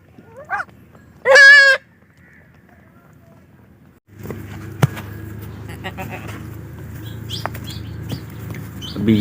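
Hungry young goats bleat in a farm courtyard: a couple of short, loud, wavering cries near the start, then a noisy stretch of milder animal sounds, rustling and movement close by.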